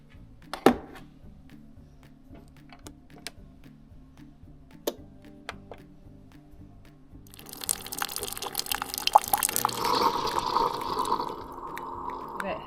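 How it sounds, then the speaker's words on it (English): A Keurig coffee maker heating water and then dispensing 8 ounces of hot water into a mug: quiet ticking and clicking at first, then a steady hissing pour of water that fills the second half. "make it with my Keurig. I'll heat up 8 ounces in a mug of just water"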